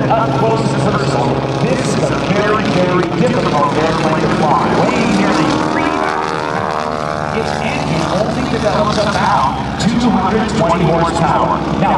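Blue Angels jet at an air show homecoming performing an aerobatic loop, a loud continuous engine roar with shifting pitch as it passes through the maneuver, heard under steady commentary.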